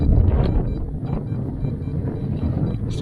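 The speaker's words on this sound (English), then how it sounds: "sorry about the wind noise as well" Wind buffets a microphone outdoors, a loud continuous low rumbling roar that fluctuates slightly and has no clear voices over it.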